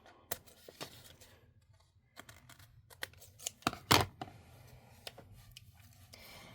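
Scissors snip through trimmed paper card pieces in a quiet room, giving a handful of sharp, close clicks and cuts, with one louder snap near the middle and softer handling rustles between.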